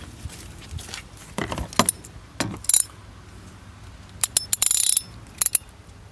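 A socket wrench ratchets on a beefy old 16 mm nut holding the rear seat of a MINI Countryman R60, giving scattered bursts of close metallic clicking and clattering separated by brief pauses.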